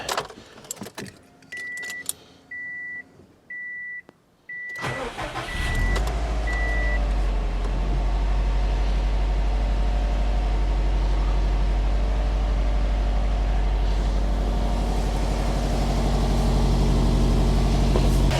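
A 2004 Subaru WRX wagon, long abandoned, is started after keys jingle and a repeating chime sounds; the engine catches and settles into a steady, loud, close idle with no talking.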